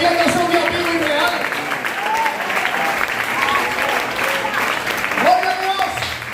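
Church congregation applauding during a Spanish-language worship service, steady dense clapping throughout with voices and a sung or shouted tone rising over it.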